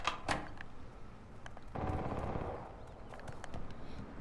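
Heavy gunfire in the game Cuisine Royale: sharp shots up front, then a longer dense burst in the middle and scattered further shots, fairly loud and alone.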